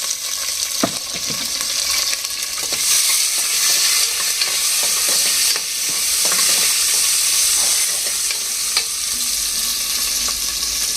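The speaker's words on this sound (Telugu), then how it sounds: "కొద్దిసేపు వేగించాలండి ఉల్లిపాయలు ఈ విధంగా వేగిన తర్వాత" Onions and green chilies fry in a pan, a steady close hiss of sizzling oil with intermittent scrapes and clicks of stirring, running continuously without speech.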